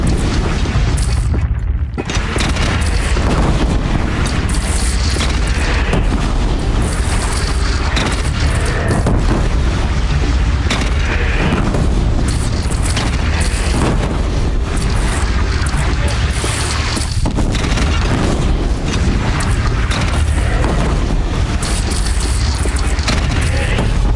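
Cannon fire in a video game set against a bandit clan: repeated heavy booms and crashes over a continuous dense battle din, loud and close for the whole stretch, with a voice occasionally shouting underneath.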